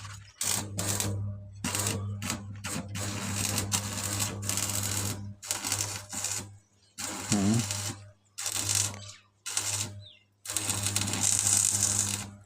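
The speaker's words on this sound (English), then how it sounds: "Now we are doing what is known as welding" Gate repair welding at close range: bursts of crackling, buzzing arc noise start and stop repeatedly over a steady low electrical hum, with short silent pauses between welds.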